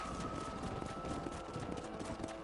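Several horses galloping in Red Dead Redemption make a dense, continuous clatter of hoofbeats, fairly loud and steady throughout the short stretch.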